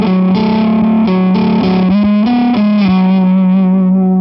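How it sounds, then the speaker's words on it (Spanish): A heavily distorted Zemaitis GZW500HB electric guitar holds thick, gritty, hoarse chords with a few changes, loud and saturated, with no voices. "tengo ese sonido grano, esa distorsión ronca,"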